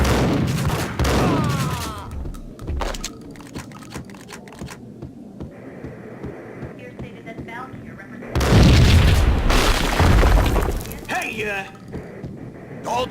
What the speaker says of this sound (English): I thought it was a bomb.